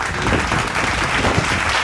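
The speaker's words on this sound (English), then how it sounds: "Somebody better clap for KG" Dense applause from many hands fills the moment, a steady, loud wash of clapping that holds evenly for about two seconds without a break.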